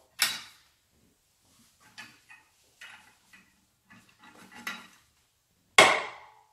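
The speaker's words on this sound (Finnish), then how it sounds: "ensimmäinen paukahdus kuuluu, eli putki lähti käytännössä nyt liikkeelle" A Perkins engine cylinder liner works loose under a puller with sharp metallic bangs, a loud one at the start and another near the end, and quieter knocks and taps scattered between them in otherwise silent surroundings.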